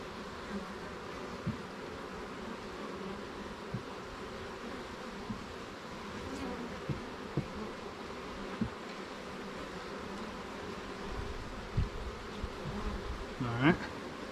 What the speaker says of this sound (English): those bees are all working their way up on this outside wall here